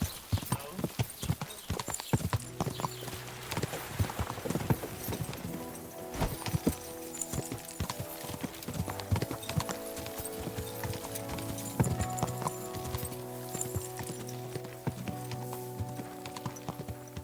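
Steady clip-clopping horse hooves plod along continuously in the video game Kingdom Come: Deliverance II, over a dense musical backdrop, with occasional faint voices and effects mixed in.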